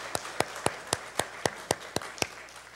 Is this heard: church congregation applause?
yes